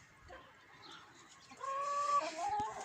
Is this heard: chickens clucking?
yes